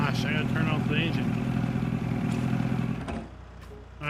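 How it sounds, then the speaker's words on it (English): A farm vehicle engine in Farming Simulator 22 runs at a steady, loud drone with clatter, then cuts down near the end, under a voice talking. "I gotta turn off the engine"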